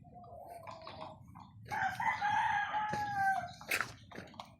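A rooster crows loudly and close by, surrounded by the clucking of backyard chickens and other fowl over quiet outdoor background noise.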